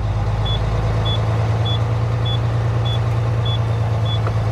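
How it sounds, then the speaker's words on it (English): Tractor trailer diesel engine idling up steadily at around 1100 RPM, a constant low rumble throughout, with a faint high beep repeating at a regular pace over it. "you want to be able to bring your RPMs up to around 1100"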